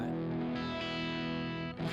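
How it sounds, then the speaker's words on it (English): An electric guitar plays through a distortion effects pedal set with level and distortion at noon and tone around two o'clock, a thick sustained overdriven chord that rings, briefly drops out, then returns. "Level and distortion at noon, and the tone at about 2 o'clock."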